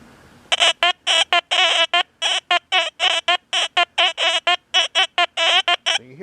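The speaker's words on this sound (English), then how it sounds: "You hear that buzzing sound going on" A Deus 2 metal detector gives a loud electronic buzzing that repeats in quick, regular bursts, about two dozen short pulses in a row, each a harsh tone rich in overtones.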